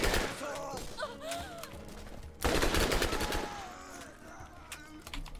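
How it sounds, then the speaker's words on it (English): Shotgun fire in the video game Borderlands comes as repeated sharp blasts and gunfire bursts, loud and close. A second heavy burst hits partway through, and whining game effects sound beneath it. "I'm standing like in front of these men shooting at them with a shotgun."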